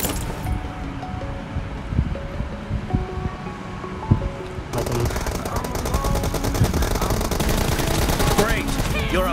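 Automatic gunfire in a video game 3v3 team deathmatch: repeated bursts of shots over a rushing ambient bed, growing denser and louder in the second half, with a player speaking at times.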